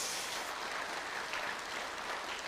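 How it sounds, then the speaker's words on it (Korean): A church congregation at a Sunday service claps for the flower arrangement team, a steady wash of applause that is fairly quiet and distant throughout. "우리 꽃꽂이 팀들을 위해서 박수 한번 해주세요"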